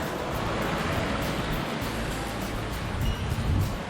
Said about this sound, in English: You can see the waterfall up above there. Water's flowing pretty quickly all the way down.